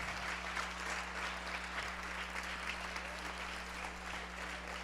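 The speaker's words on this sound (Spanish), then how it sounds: "Denles aplauso al Señor, amén." A church congregation applauds at a Spanish-language service, steady even clapping filling the room for the full stretch, moderately distant, with a constant low electrical hum underneath.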